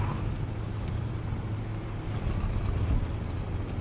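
Enemy tank engines in War Thunder make a low, steady rumble that drones at moderate volume, slightly swelling toward the end.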